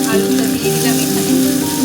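Chopped ginger and chili go into a potato filling for homemade singara, and the pan keeps up a loud, continuous close-up sizzle and crackle of frying oil.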